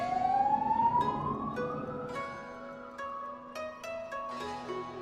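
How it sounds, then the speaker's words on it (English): An ambulance siren in a video game wails with a rising sweep, then holds steady as it passes, alongside sharp game clicks and tones. "An ambulance passed by."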